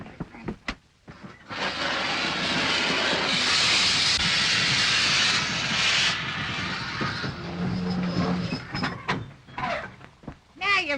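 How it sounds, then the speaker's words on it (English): Steam roars out of a steam engine in a long, loud, steady hissing blast lasting several seconds, easing off into quieter sputters and short bursts at the end. "You've got to let all the steam out."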